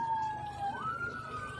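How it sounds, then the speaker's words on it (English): An ambulance siren wails steadily nearby, its tone sweeping down and then rising again, sounding alone in the open air near a lake with no talk over it. "Sounds like multiple sirens"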